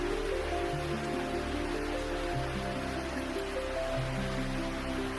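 Steady rain falls as an even, continuous hiss, softly blended with low sustained musical drones underneath throughout.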